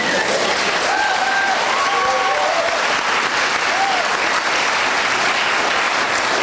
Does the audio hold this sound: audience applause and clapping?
yes